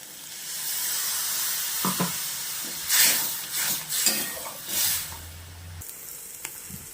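Water splashes into a sizzling bitter gourd curry in a hot pan, raising bursts of loud hissing steam and bubbling amid stirring knocks, then settling to a softer simmer with a few clinks.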